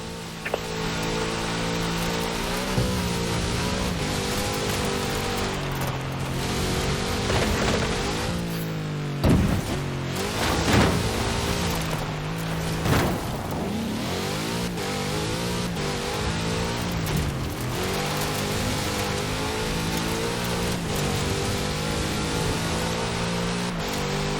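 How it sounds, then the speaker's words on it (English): A big Chevrolet car engine drives over rough ground in the racing game Forza Horizon 4, a steady loud droning rumble with rising and falling revs and occasional bumps, continuous throughout with no talk. "Such power in the big Chevrolet engine."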